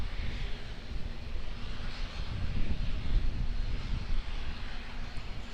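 An airliner landing at Auckland Airport, its engines a steady low roar with broadband wind-like rush that swells slightly midway, continuous and moderately distant, no talking.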